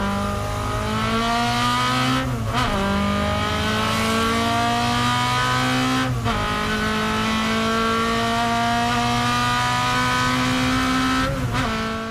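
A race car runs around a racetrack at full power, its engine a loud, steady high-pitched roar that drops briefly at gear shifts about every four seconds before climbing again, heard from onboard with no talking.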